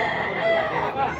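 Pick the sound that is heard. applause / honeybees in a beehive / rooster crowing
rooster crowing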